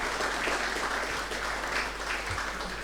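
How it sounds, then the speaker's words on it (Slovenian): Audience at the Kosmatinec 2024 awards ceremony giving a big round of applause, dense continuous clapping that stays loud and even throughout with no voices on top. "Tako, še enkrat en velik aplavz."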